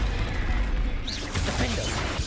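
A Confringo fire spell blasts in Hogwarts Legacy on PS5, a dense crackling burst of combat noise amid loud continuous game effects, with a shouted voice over it.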